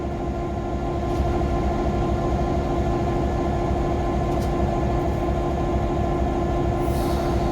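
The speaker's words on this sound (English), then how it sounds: "the locomotive will go past our train on track number 2" A locomotive rumbles steadily along the track at the Tennessee Valley Railroad Museum, loud and close, with a constant low drone and a sustained tone above it, no voices.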